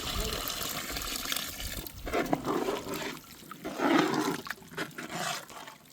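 Water splashes and gurgles steadily into a cooking pot of banana stem kurma, close and fairly loud, with brief clinks and some murmuring in the background.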